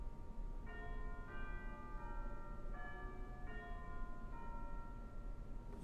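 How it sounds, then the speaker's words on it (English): Chimes of a 1930 Kimball theatre pipe organ ring out in a sequence of clear, sustained bell-like notes, each struck in turn and decaying gently, with no voices over them. "We do have chimes available over here."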